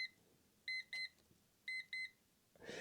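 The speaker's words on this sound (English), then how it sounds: "sometimes the alarm will go off" Electronic beeps from a Time Timer or Yunbaoit kitchen timer alarm in two quick pairs, a short pause between them, followed by a brief rustling noise at the end.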